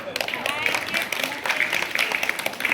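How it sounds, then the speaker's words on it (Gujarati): Schoolchildren clapping together at a primary school, a steady patter of applause that lasts the whole stretch, fairly close, with a voice speaking over it. "ચાલો ખૂબ સરસ, જોરદાર તાળી પાડો"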